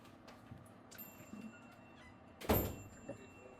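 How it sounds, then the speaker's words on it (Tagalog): A door is pushed shut in a kitchen where fish are being cooked, one short loud thump with a brief rattle against quiet room ambience. "sinara ko muna yung pinto kasi may isa ng langaw na nakapasok sa loob"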